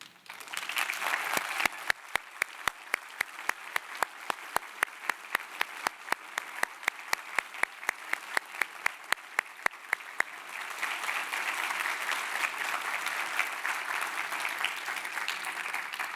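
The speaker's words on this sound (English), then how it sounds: "I'm going to ask nicely if you would all stand up so we can give you a round of applause" A conference audience at RubyConf 2023 stands and gives a sustained round of applause, dense steady clapping with scattered sharper claps, swelling slightly louder toward the end.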